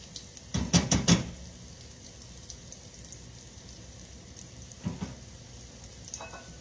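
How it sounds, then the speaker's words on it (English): Food frying in a pan ahead of going into a 400-degree oven for a one-pot meal, with a cluster of loud crackling pops early on, scattered bursts later, and a steady soft sizzle beneath, no voices. "All right, and it's frying."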